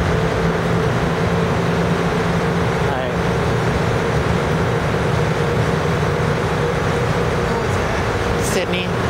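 An airport people mover train rumbles steadily along with a continuous low hum and rolling noise, voices faintly audible in the background.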